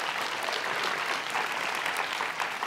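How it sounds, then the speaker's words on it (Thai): A television singing-contest studio audience gives two singers a full, steady burst of applause, dense and continuous throughout with no break. "ขอเสียงปรบมือให้กับทั้งคู่ด้วยนะฮะ"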